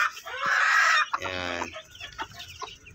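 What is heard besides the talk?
mother hen clucking while teaching Shamo Asil chicks to eat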